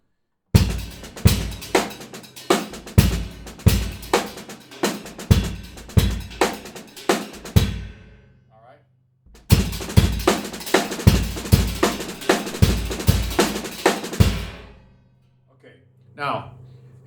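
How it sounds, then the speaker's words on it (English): A drum kit plays a paradiddle pattern on the ride cymbal with bass drum kicks landing on the accents, two steady looping passages of bright cymbal strokes and thumping kicks separated by a short pause. "So the next step would be to put it on the ride cymbal with a bass drum,"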